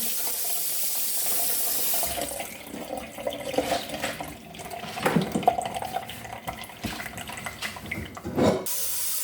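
Tap water runs steadily over sago pearls being rinsed in a sink, a continuous splashing rush with swirling, sloshing surges as the pearls are stirred, close and full throughout.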